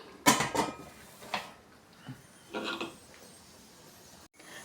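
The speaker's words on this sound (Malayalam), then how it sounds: "വീണ്ടും കുക്കർ അടച്ചു വെക്കാം." A few wooden-sounding creaks and rubbing scrapes as a pressure cooker lid is worked shut, in short separate bursts with quiet pauses between.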